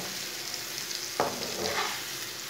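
Spices and tomatoes fry in a pan while being mixed for a tori and egg salan, giving a continuous close sizzle with one sharp stirring clack midway and no talking.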